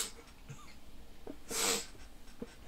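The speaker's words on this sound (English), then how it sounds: "You almost sneezed on me." A single sharp, breathy sneeze bursts out near the middle, close and fairly loud, set among faint breaths and quiet room noise.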